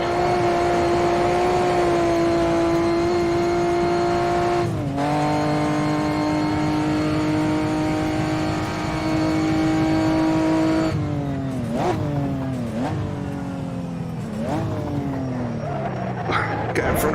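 A 1958 Formula 1 race car in Automobilista at Rouen, its engine howling loud and steady, then dropping in pitch through a series of sharp downshifts with blips as the car brakes, talk heard under it.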